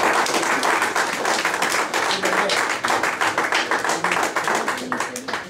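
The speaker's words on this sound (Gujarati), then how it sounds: "પહેલાં આપણે તાળીઓના ગરબાથી વધાવીએ." An audience at a Gujarati poetry gathering claps in a brisk, fairly rhythmic group burst that holds steady for several seconds, close and loud, with faint voices underneath.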